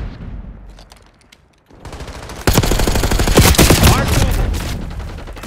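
Call of Duty Black Ops 6 gunfire: after a quieter stretch, heavy rapid automatic fire breaks out loudly and continues in dense, rattling bursts to the end.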